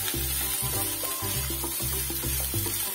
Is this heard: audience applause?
no